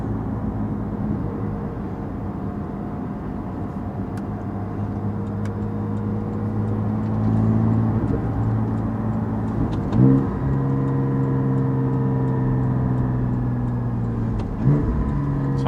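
A Porsche GT4 being driven produces a steady, close engine drone inside the car, with gentle swells in revs and a few brief bumps over about fifteen seconds.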